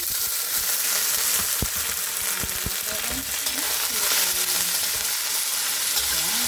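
Garlic and onion fry in a hot pan with a loud, constant sizzle and crackle, broken by a few sharp stirring knocks.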